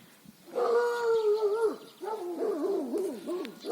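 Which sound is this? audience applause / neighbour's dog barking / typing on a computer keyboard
neighbour's dog barking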